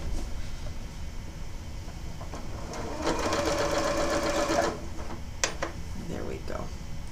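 A sewing machine stitches quilt fabric in a close, fast mechanical whir lasting under two seconds, bracketed by quieter handling clicks and rustles, with someone speaking at moments around it.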